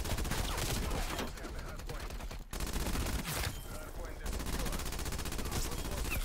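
A PPSh-41 submachine gun in Call of Duty Cold War fires long, rapid full-auto bursts with only brief pauses, and the dense rattling gunfire fills almost the whole stretch.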